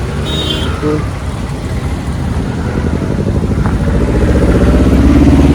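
Steady road traffic on a main road, with motorcycle and engine rumble that builds slightly louder toward the end, a continuous close mix of passing vehicles.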